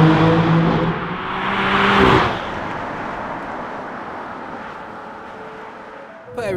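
BMW F80 M3 engine revving loudly, rising to a peak around two seconds then settling into a steady drone, heard close and alone with a brief sharp blip at the end.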